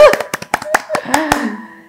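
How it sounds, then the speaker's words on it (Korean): Brisk hand clapping in a nail-salon talk-show greeting: a quick, uneven run of close, sharp claps that fades out, with voices speaking over them. "여러분 박수!"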